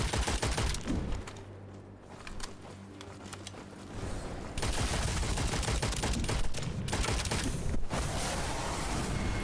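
Rapid enemy gunfire crackles in the Witchfire first-person roguelite shooter, dense volleys of shots rattling almost continuously at loud volume, briefly thinning before resuming in sustained bursts.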